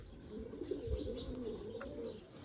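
Pigeons coo softly and repeatedly, a low, rolling murmur of overlapping calls close by with no talking.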